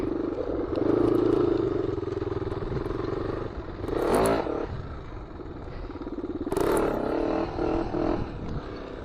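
Honda 400EX ATV engine pulling in second gear outdoors, a steady buzzing roar with two brief surges of revving, heard from nearby with no talk.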